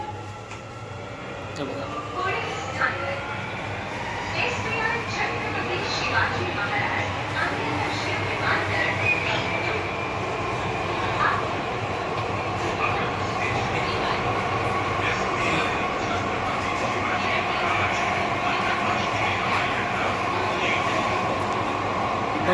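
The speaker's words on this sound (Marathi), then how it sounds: "मरून नाक्यापासून आपली ट्रेन निघाली आहे" A Mumbai Metro Aqua Line 3 underground train leaving Marol Naka rumbles steadily along, its motor whining and rising in pitch, while people talk inside the carriage.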